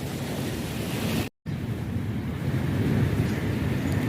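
A calm sea on a smooth morning washes steadily against the shore in a continuous soft roar, with some wind rumble on the microphone and a brief dropout to silence partway through.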